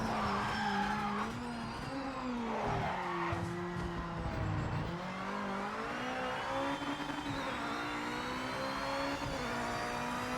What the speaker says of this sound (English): And pay close attention to the engine sound.